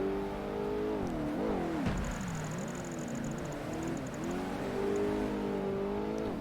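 A car in Project Gotham Racing 2 revs and accelerates on a wet track, its engine note loud and close, rising and falling in pitch and wavering throughout, with a faint high beeping for a stretch.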